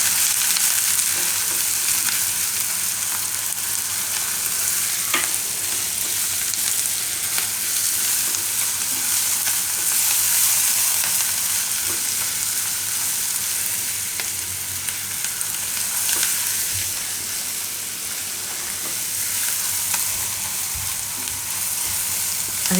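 A parvar (pointed gourd) mixture for Gujarati oro fries and is stirred in a pan, giving a continuous close sizzle with occasional scraping knocks throughout.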